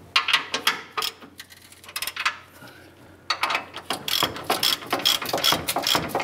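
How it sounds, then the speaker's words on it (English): A hand ratchet clicks in quick bursts while tightening front bumper bolts on a Dodge Ram 1500 pickup, with pauses between runs of sharp, close metallic ticks. "let's go ahead and tighten down the rest of our bolts here"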